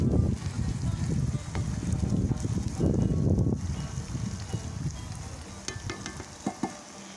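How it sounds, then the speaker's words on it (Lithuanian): Rice for plov being stirred in a kazan over an open fire, bubbling and scraping in rough waves with a brief lull, then softer crackles and occasional sharp clicks toward the end. "Ryžius karts nuo karto galima pamaišyti, svarbu, kad neliesti apatinio sluoksnio"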